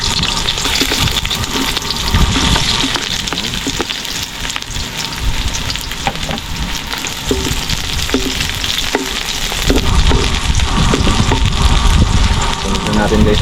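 Onions hit hot oil in a pan and fry with a loud, continuous sizzle and crackle, close up, with occasional stirring clatter and a voice speaking over the cooking.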